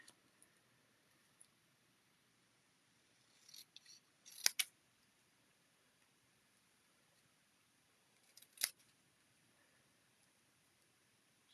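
Scissors snip through a sheet of paper while a card layout is being made, with a short cluster of faint, crisp cuts followed a few seconds later by one more snip in a quiet room.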